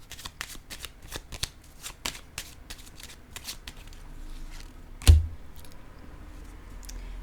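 Tarot cards are riffled and shuffled in quick bursts of crisp flutters, then a single card lands with a soft tap, close up and nearly alone with no speech.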